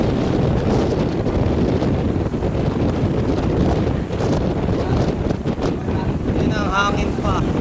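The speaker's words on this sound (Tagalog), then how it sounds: "Yun ang hangin pa." Strong wind buffeting a ship deck at sea, a loud roaring rush against the microphone with surging gusts and a brief voice near the end.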